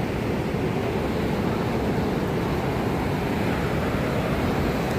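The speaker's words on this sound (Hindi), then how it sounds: "ये है खाप संगम, जो कि 2 reverse Sutlej and Spiti river का कॉन्फ्लुएंस माना जाता है।" Dense, steady rushing water roars without a break at the confluence of the Sutlej and Spiti rivers at Khab Sangam, a loud broadband wash with no voices over it.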